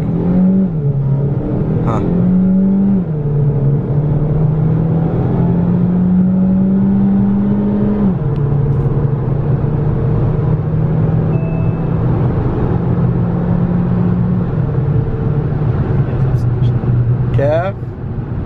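A Hyundai Elantra accelerates hard, its engine droning loudly from inside the cabin and rising in pitch through the gears with brief drops at each shift, while people speak over it.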